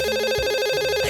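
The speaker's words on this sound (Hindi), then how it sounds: "ये जरूर सर का फोन होगा।" A cartoon telephone rings with a bright, repeating electronic trill, loud and close, pulsing in a fast steady pattern with no talk over it.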